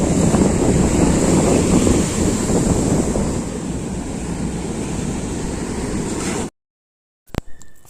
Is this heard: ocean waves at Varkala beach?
yes